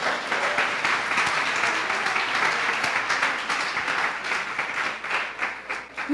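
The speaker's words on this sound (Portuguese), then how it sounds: "Dê uma salva de palmas ao Senhor." Congregation applauding during a Sunday church service, a dense sustained wash of clapping that holds steady for several seconds before thinning out toward the end.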